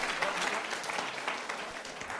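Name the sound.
audience clapping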